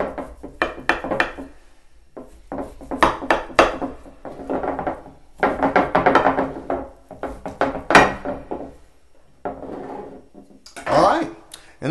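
A knife scoring the outside of a ham, heard as bursts of sharp cutting and scraping strokes on a board, close and loud, separated by brief pauses, with a person talking throughout.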